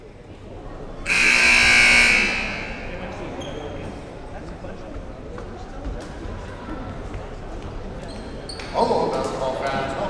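A loud, sustained buzzer blares for about a second in a high school basketball gym, then fades into crowd murmur and squeaking, with a brief clatter late on.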